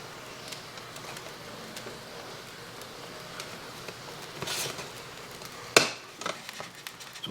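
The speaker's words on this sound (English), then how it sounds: "you're going to want to gently pop off this axle shaft" A plastic axle shaft is eased off a vintage GI Joe Troubleshooter toy communications center: quiet handling scrapes and faint clicks, then one sharp close snap near the end, followed by a few small ticks.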